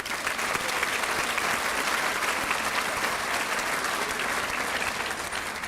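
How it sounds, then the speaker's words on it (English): Graduation crowd at a high school ceremony breaks into sustained applause, an even, continuous roar of many hands clapping from a large audience, moderately distant and unbroken for several seconds. "so please give yourselves a round of applause."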